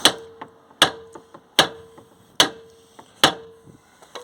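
Five sharp metal hammer blows on a Volkswagen T4 upper suspension ball joint ring out at an even, unhurried pace, each followed by a lighter tap, loud and close with a faint ringing tone.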